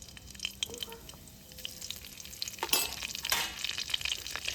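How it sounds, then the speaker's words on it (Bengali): Nigella seeds and a split dried red chilli fry in oil with a soft, steady sizzle, joined by light stirring taps and a louder crackling burst near the end, close and fairly quiet. "কালো জিরে আর শুকনো লঙ্কাটাকে একটু ভাজা ভাজা করে নেব"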